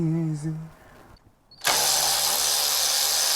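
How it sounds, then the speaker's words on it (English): A power tool whirs on the 3.5L V6 engine of a 2010 Dodge Charger during timing belt and water pump work, kicking in suddenly after a voice and a brief lull, then running loud and steady. "Oh, the joy of power tools."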